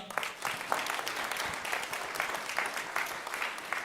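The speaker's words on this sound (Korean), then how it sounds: "인사할 때 내빈들께서는 큰 박수로 격려해 주시기 바랍니다" Guests applaud at a 2024 Busan Presbyterian University graduation and degree ceremony, a steady wash of many hands clapping at moderate distance, fairly even in level throughout.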